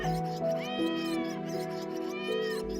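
A cat meows as a sound effect in a narrated Hindi folk tale about a mouse army: two drawn-out, rising-and-falling meows over a steady musical drone.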